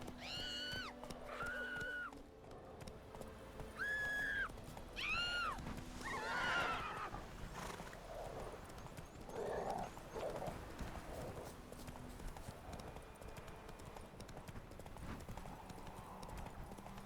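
A horse in The Witcher 3 video game neighs and whinnies several times over a rapid clip-clop of hooves, with the galloping close and continuous.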